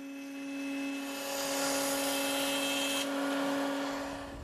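Power tool milling mortises into the ends of table aprons for a Chippendale side table, a steady motorized whine with a high pitched tone that swells as the cutter bites in and then tapers off, with no speech.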